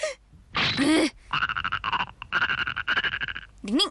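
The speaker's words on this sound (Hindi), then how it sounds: "मेंढक की आवाज।" Cartoon frog croaking in several rasping, pulsing bursts, loud and close, separated by short pauses.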